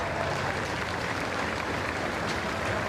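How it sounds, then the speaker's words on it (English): Polite applause rises from the stewards' enclosure at the Henley rowing finish, a steady, dense wash of distant clapping that holds evenly throughout. "getting polite applause from the stewards' enclosure."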